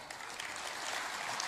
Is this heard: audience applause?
yes